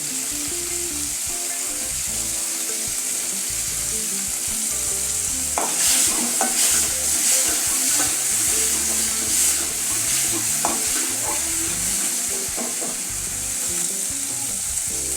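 Grated coconut and tamarind sizzling in hot oil in a pan for a spicy South Indian brinjal kuzhambu, with a continuous close frying hiss and scattered spoon scrapes and stirring clatter partway through.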